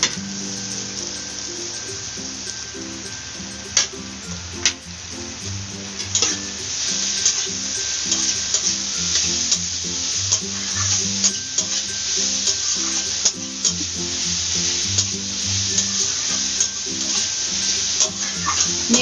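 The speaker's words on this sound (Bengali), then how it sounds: "একটু একটু করে এগুলো কষিয়ে নিচ্ছি," Carrot and capsicum sauté with prawns in an oiled pan, giving a continuous close sizzle with scraping and stirring strokes throughout, accompanied by background music.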